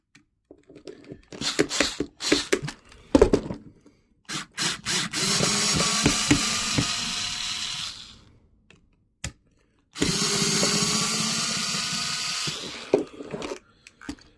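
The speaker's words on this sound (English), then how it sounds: "Just going to undo these 2 screws here, which is holding the little resistor bit in." On an old Tamiya RC car, screws are undone with a small power screwdriver: a run of close clicks and taps, then two sustained whirring bursts separated by a short pause, with faint clicks between.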